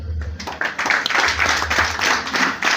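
A crowd claps continuously, a dense, fairly close burst of applause that holds steady throughout.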